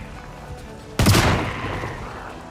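A gunshot fired at zombies in the video game Project Zomboid: one sharp, loud report cracks out and rings off in a fading tail over a quiet background hum.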